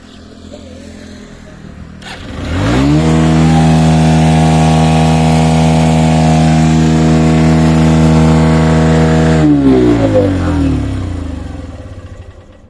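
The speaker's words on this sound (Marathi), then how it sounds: "गाडी कशी रेस होते मी तुम्हाला आता दाखवतो" A vehicle engine with a fault that makes it race on its own idles, then climbs into a loud sustained rev that holds steady for several seconds before dropping back down, close by with no talk.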